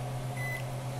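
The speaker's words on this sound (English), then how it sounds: "Kitchen timer." A kitchen timer on a microwave in a home kitchen while making clear egg jello, heard as a steady appliance hum with a faint, brief electronic tone; no one speaks.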